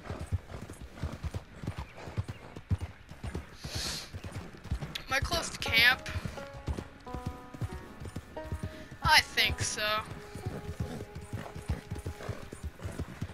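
Rapid hoofbeats of the horse Maverick in Red Dead Redemption 2, a steady galloping clip-clop running throughout with a couple of whinnies and brief music swells, while someone talks over it.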